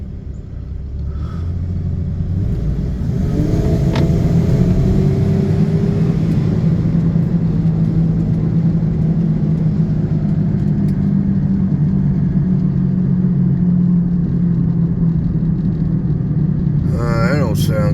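Chevrolet Monte Carlo SS driving on the road, steady loud engine and tire rumble throughout, with a possible brake rotor noise mixed in and brief voice sounds near the end.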